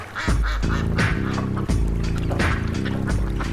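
Ducks quack repeatedly in quick, overlapping bursts, loud and close, a noisy chorus of several birds on a patio in South Florida.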